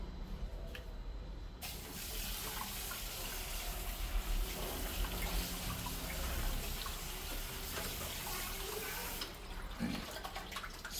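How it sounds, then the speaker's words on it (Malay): Pineapple skins being rinsed under running water, a steady close gush and splash from a tap that fills the whole stretch, briefly quieter at the start and end, with no talk. "Mula-mula kita basuh kulit nanas dulu lah."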